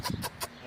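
Small chicks on a family farm give a quick run of three short, bright peeps in under a second, close and fairly clear.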